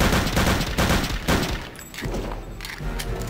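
Rapid bursts of gunfire from a gun in the Return to Castle Wolfenstein video game, loud repeated shots in quick volleys with short gaps between them.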